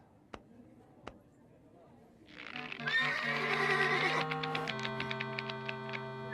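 A horse lets out a loud, drawn-out whinny with a rising then wavering tone after two sharp knocks, sounding close and alone.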